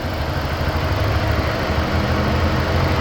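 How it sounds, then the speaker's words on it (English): Four-cylinder engine of a 2011 Ford Escape idling steadily with the hood open, a close, even low rumble with slight vibration and no talking over it. "There's the motor, doing what it's supposed to be doing. Apparently this is just a 4-cylinder."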